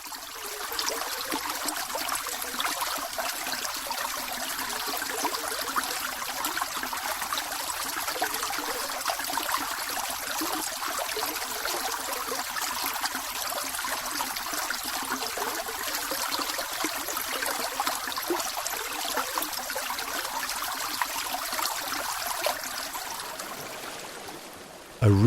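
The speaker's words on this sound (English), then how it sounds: "Droplets gather, forming a stream." A water stream trickles and flows in a steady, even rush that continues unbroken and close. It fades slightly near the end before a brief click.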